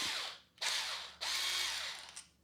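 A Black+Decker 8V MAX cordless drill spins its keyless chuck counterclockwise in two close motor bursts, each winding up sharply then trailing off, with a brief ratcheting whir and no voices.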